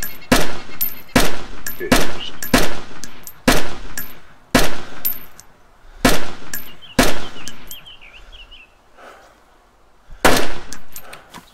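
Gunfire in the video game DayZ: a series of loud, sharp shots, some in quick pairs and bursts, with short gaps between them. Near the end a single voice speaks briefly.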